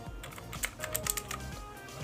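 Typing on an Aula F2058 mechanical keyboard, with steady close-up key clacks in a quick, slightly uneven rhythm running continuously without any talk.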